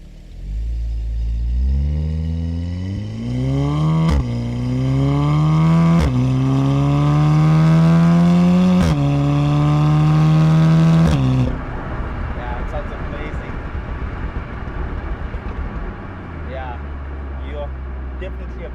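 A tuned VW Golf 7R with induction kit and downpipe revs hard, its exhaust rising in repeated loud climbing sweeps, then settling to a rough, crackling idle, close up.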